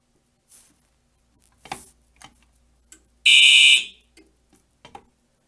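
A loud, shrill electronic alarm beep from a Simplex 4010 fire alarm panel blares in a short burst of two quick beeps during a test, surrounded by faint clicks and handling noises in an otherwise quiet room.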